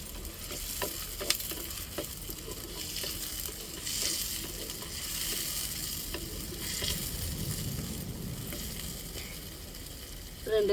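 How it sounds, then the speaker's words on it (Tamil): Curry leaves hitting hot oil in a pan with onion and tomato for a chicken fry, giving a steady, close crackling sizzle that holds for about ten seconds, with light stirring scrapes and no talk. "இப்போ கருவேப்பிலை சேர்த்துக்கிடுவோம்"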